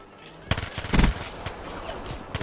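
In a video game, a Vesper submachine gun fires a rapid burst of close, sharp shots that builds to a heavy peak and then rattles on as several quicker pops.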